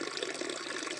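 Water pours steadily from a bear-shaped fountain into a tub, giving a continuous close splashing rush with no break.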